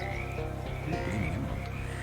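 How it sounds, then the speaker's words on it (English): A large frog in the Shadows Over Loathing video game gives a loud, throaty croaking cough in a short burst over a steady droning background. "One of the larger frogs hops up to you and coughs loudly."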